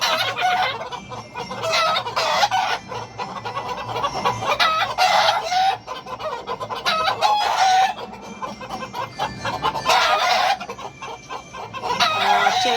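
White fighting roosters crow loudly and repeatedly, with hens clucking between the calls, close by and with no talking.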